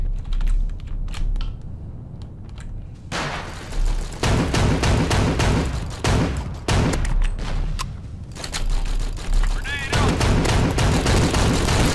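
A Desert Eagle pistol fires in a first-person shooter game. Loud, sharp shots come in clusters with short gaps between them, and voices talk over parts of the firing.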